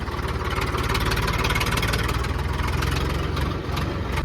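A tractor engine chugs loudly and steadily nearby, its rapid low throbbing pulse continuous throughout with no voices.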